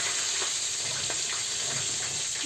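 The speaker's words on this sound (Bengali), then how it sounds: "বেগুন ভাজাটা মানে এক এক করে সব সবজিগুলো আমি ভেজে নেব" Eggplant (brinjal) slices frying in oil in a pan in a village kitchen, giving a steady, faint bubbling sizzle and hiss that continues without pause, with no talking.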